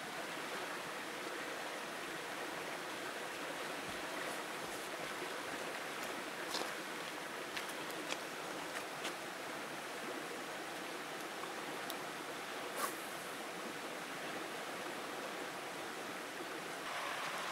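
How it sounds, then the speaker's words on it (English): River rapids at the end of a canoe portage in the wilderness make a steady, broad rushing roar of churning water. It is continuous and even, heard from nearby with no other sounds. "there's the end of this portage is rapids"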